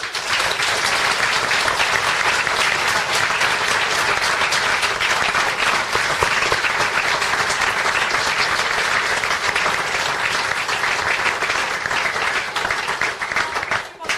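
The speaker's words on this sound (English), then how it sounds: "could we have a big round of applause for us?" An audience at a panel discussion breaks into a sustained round of applause, a thick, even wash of many clapping hands that holds steady for about fourteen seconds.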